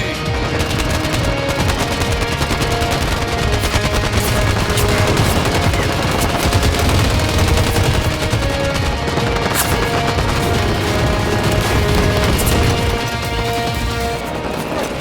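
Dense, nonstop automatic gunfire from a video game shootout, loud rapid bursts and crashing impacts layered over one another for the whole stretch, with no pause between volleys.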